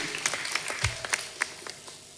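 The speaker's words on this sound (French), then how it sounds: "le Père John Bosco, que je vous demande d'applaudir, mesdames et messieurs" Scattered handclaps at an Easter celebration in Guinea, where a priest is being honoured: a handful of separate claps ring out unevenly, fairly close, with gaps between them and a faint room murmur underneath.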